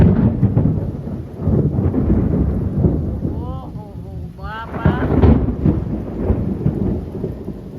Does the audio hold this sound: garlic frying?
no